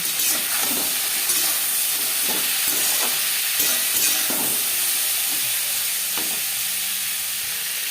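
Drumsticks frying with turmeric in a pan for vegetarian Bengali sojne data chochchori hiss loudly and steadily, while a spatula scrapes and knocks several times in the first half; nearby and without speech.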